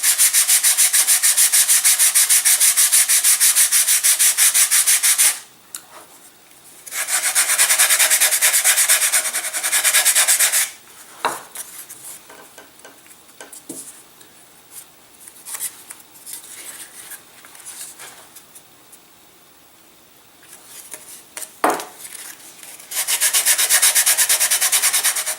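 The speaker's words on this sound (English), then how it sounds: "make sure we've sanded up fairly close" Sandpaper rubs rhythmically against a small hard part of a boost/glider model rocket in several long bursts of scratchy strokes, separated by quiet pauses with light handling noises.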